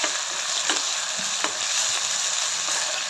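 Onion sautéing in hot oil for a matki and soaked pea bhaji, a steady loud sizzle with a few sharp spatula scrapes against the pan.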